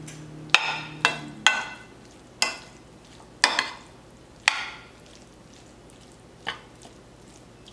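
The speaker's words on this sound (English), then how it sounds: "And mix that up." Cheese gets mixed into Mexican street-style elote corn in a bowl, a series of separate wet squishing and clacking stirs spaced roughly a second apart, close and moderately quiet, with no talking.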